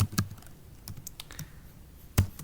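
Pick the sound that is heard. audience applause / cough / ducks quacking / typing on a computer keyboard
typing on a computer keyboard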